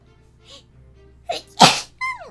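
One loud, close sneeze with a short sharp intake before it, followed by a brief voiced sound, all against an otherwise quiet background.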